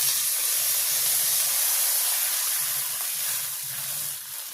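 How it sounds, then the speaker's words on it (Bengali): Water hits hot spiced oil in a village kitchen pot, setting off a loud, steady sizzle and hiss of steam that holds for several seconds before easing slightly at the end. "সুন্দর মশলার তেল ছেড়ে দিতে আমি এখন জলটা দিয়ে দেবো।"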